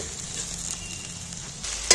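Ginger, garlic and spices fry in hot oil with a steady, close sizzle and a little stirring, no talk over it.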